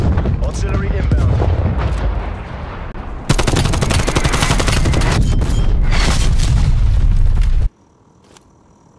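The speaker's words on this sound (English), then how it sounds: "Hostile artillery targeting active." Artillery strike explosions and heavy gunfire in Call of Duty: Black Ops Cold War: dense, loud, overlapping booms and rattling shots for most of the clip, then it cuts to near quiet.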